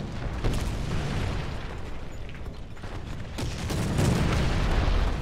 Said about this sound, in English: He called an artillery strike on your head